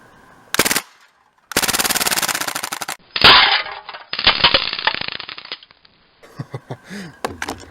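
Several full-auto bursts from an Uzi-style BB submachine gun as the magazine is emptied, loud and close, with rapid chattering strings of shots separated by short pauses and a few scattered single pops at the end.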